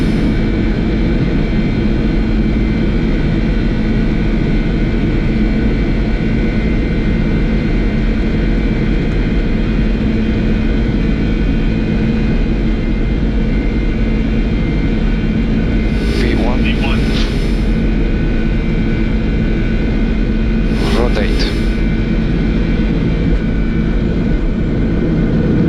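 Boeing 747 jet engines at takeoff thrust, heard from the cockpit as a loud, steady broadband roar that continues throughout, with brief radio or cockpit tones near the end.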